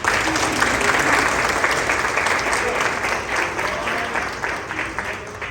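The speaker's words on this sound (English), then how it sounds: "Let's give another big round of applause." Sustained audience applause from a crowd at a live presentation event, dense and steady throughout, fading slightly toward the end.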